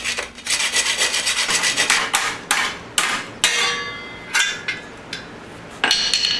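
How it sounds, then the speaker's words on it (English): A hand file rasps and scrapes inside a metal exhaust baffle for a cafe-racer motorcycle project, knocking off burrs in a series of sharp, close, uneven grinding strokes with brief pauses between bursts. "Hitting the inside of it here with a file seems to be helping a lot."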